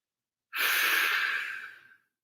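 A single long exhale through an open mouth during yoga breathing, a soft airy rush that swells quickly, holds for about a second and a half, then tapers off into silence.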